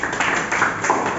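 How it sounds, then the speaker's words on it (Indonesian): Applause from a class of students during a practice teaching lesson on applying body filler, a short burst of many hands clapping together as a dense, steady patter that fills the room at moderate loudness, with no voices over it. "Oke, berikan tepuk tangan."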